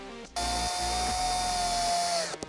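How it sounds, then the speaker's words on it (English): A power driver runs a screw through a mounting bracket into a speaker enclosure for an overhead speaker adapter on a 2024–2025 Jeep JL/JT. It makes one sustained, close, high whine for about two seconds, with no talk. "We're going to place the bracket here and screw it in."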